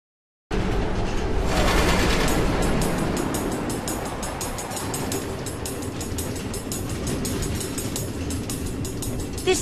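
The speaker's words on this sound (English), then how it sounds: "Automated train tracks running all through the Nether, connecting all the different order members?" A minecart train rolls on automated tracks through the Nether in Minecraft: Story Mode, a loud continuous rumble with steady clickety-clack rail rhythm starting abruptly and holding for several seconds.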